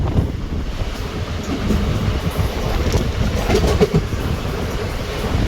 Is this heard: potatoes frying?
no